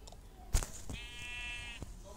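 A single video game sheep bleats with a wavering, buzzy tone after a sharp click, set against a quiet hum.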